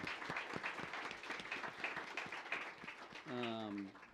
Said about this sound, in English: So another round of applause for this fantastic panel.